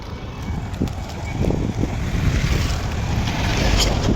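Cold wind gusts past while someone walks outdoors on a dark winter evening heading toward a shopping store, a rough, buffeting roar against the microphone that swells and stays strong, with no voices.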